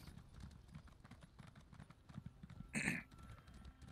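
Horse mount hoofbeats in Elder Scrolls Online, a quick steady clip-clop of hooves running throughout, with a brief snort or whinny near the end.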